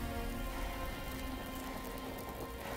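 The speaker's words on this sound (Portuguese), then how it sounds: "ela tá tomando uma porrada de chuva" Steady rain pours down on a character in the video game Death Stranding, a dense even hiss that keeps going at the same level throughout, with no voices.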